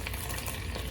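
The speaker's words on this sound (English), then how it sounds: "I'm going to give this a stir. Let the ginger and garlic cook up just a little bit." Ginger and garlic cooking in a pan for a coconut fish curry, stirred with a steady close sizzle and frying crackle, without pauses and with no voices.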